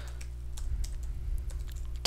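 Typing on a computer keyboard while building a text-based command-line game, a handful of soft key clicks spread over about two seconds, close but faint over a low steady hum.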